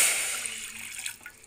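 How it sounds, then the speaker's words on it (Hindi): Water pours and splashes steadily for a moment, a bright rushing trickle that gradually softens, with no voices. "तो सबसे पहले हम अब इसमें हम 1 गिलास पानी डालेंगे,"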